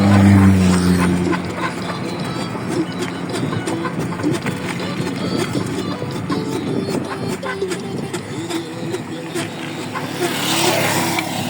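A car approaches and passes along a road while someone rides a bicycle, its engine rising in a broad whoosh over wind noise, with someone talking over it.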